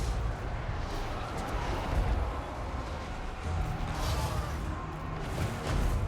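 Mortar fire booms in the Total War: Warhammer video game as a dense rumble of distant artillery blasts and crashes, layered continuously over the battle din.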